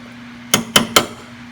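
Three sharp metallic hammer blows ring out in quick succession on the U-joint of a 2001 Dodge 2500, close and loud over a steady low hum.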